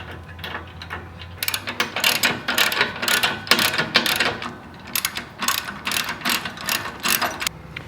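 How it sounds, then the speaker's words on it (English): A ratchet wrench tightens whiz nuts onto bolts of a Jeep Wrangler base plate with bursts of rapid close clicking, several repeated strokes separated by brief pauses, with no talk. "We'll put the bolt in and use the whiz nuts on the inside to tighten it up."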